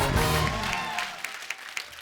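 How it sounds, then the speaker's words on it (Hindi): A studio audience at a comedy talk show bursts into applause, dense clapping that starts loud and thins into scattered claps toward the end. "जोरदार तालियां बनती हैं।"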